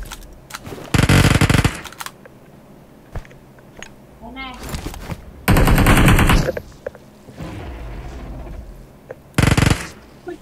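Machine-gun fire in a shooting video game comes in three loud, rapid bursts separated by gaps, with players talking between and around them.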